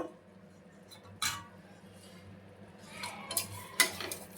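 Egg pulav being stirred and fried in a pan, with spoon scrapes and clinks against the metal at intervals over a soft, low cooking hum.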